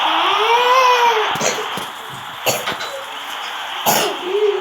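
A few short coughs break through a steady, loud whine in the background, with sharp bursts spaced a second or two apart.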